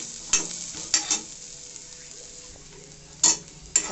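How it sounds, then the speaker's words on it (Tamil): Grated coconut frying and being stirred in a pan until golden for a mint, coriander and curry leaf chutney; a steady soft sizzle runs throughout, broken by a few sharp scraping stirs of a utensil against the pan. "தேங்காவை நல்லா போட்டு அதையும் லேசாக பொன்னிறமாக ஆகிற வரைக்கும் நல்லா வறுத்து எடுங்க"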